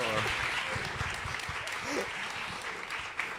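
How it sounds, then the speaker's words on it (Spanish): Festival audience applause for a talk at Black Canvas in Mexico, a broad wash of clapping heard throughout, with a few voices and low murmurs mixed in. "Perfecto, un aplauso por favor."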